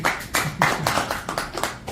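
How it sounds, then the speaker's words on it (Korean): An audience at a political talk claps in a short burst of quick, uneven hand claps lasting a couple of seconds, with no talk over it. "박수 한번 쳐주세요"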